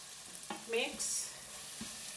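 Cooked lentils being stirred in a pot for Spanish lentejas, a brief scrape and wet churn over a steady background hiss, close and fairly quiet.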